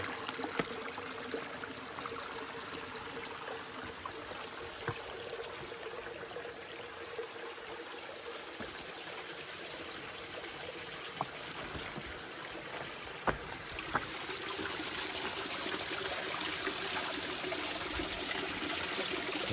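Steady rushing and trickling of Pine Creek flowing nearby in Terrace Canyon at Red Rock, continuous and broad, growing slightly louder toward the end, with a few faint knocks.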